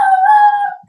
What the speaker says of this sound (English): Oh, your dog didn't like that opinion.